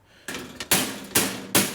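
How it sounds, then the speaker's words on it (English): Hammer knocking a metal piece down tight into the corner of a cheap steel welding table, three sharp, loud metallic blows with ringing decay at a steady pace, heard alone. "I'm just going to take my hammer and"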